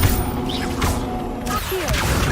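Levioso spell cast in a video game: a dense rumbling burst of magical whooshes and crashing impacts with a sliding tonal swoop near the end, loud throughout.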